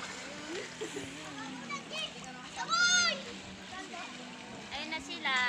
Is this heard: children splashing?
yes